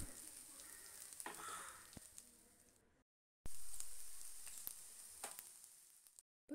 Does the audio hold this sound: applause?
no